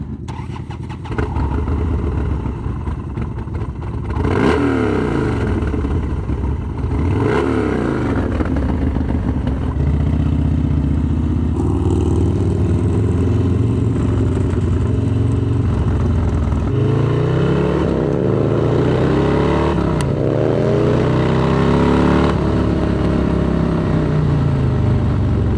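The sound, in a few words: Harley-Davidson Dyna motorcycle riding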